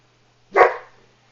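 A dog gives a single short, sharp bark at a vacuum cleaner, close and clear against an otherwise quiet room with a faint low hum.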